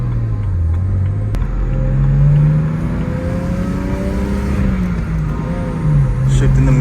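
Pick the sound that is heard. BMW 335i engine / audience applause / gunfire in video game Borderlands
BMW 335i engine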